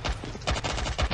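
Rapid bursts of gunfire in the mobile shooter Modern Strike Online, a quick run of loud, punchy shots at an uneven rhythm, heard close with no talk over them.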